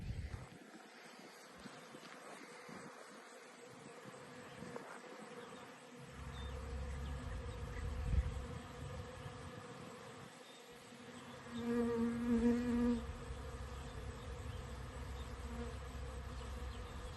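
Honeybees swarm over freshly harvested honey set out near their hives, cleaning it up. The buzz of many bees hums steadily throughout, rising in a louder close pass about two-thirds through, with no talking.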